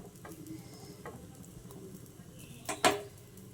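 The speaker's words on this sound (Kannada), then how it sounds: "ಇವಾಗ ಬ್ರೆಡ್ನ ನಾನು ಬಿಸಿ ಮಾಡ್ತಾಯಿದ್ದೀನಿ ತುಪ್ಪ ಹಾಕಿ." Bread heating in ghee in a pan gives a low, steady sizzle, with a few light clicks and a sharper scrape or clatter near the end.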